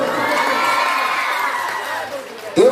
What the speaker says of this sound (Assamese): এটা জোৰদাৰ হাত চাপৰিৰে।